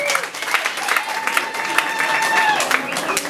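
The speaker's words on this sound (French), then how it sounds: "Applaudissez s'il vous plaît pour leur effort." Guests at a wedding evening party applaud in a steady, dense burst of clapping. A voice talks over it.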